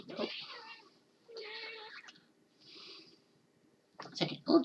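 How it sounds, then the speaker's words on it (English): An old house cat meows several times in short, drawn-out calls separated by pauses, close to the microphone, with a louder, breathier burst at the end. "she's getting old, so she's an old kitty"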